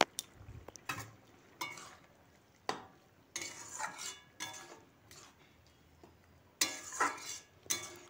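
Chickpea and potato curry with chopped coriander being stirred in a pan, intermittent scraping and clinking strokes of a spoon against metal, spaced irregular bursts with quiet gaps between them.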